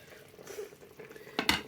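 Low kitchen clatter and sizzle, then a short burst of chopped onion, carrot and garlic tumbling into a hot pot near the end, while cooking pilaf.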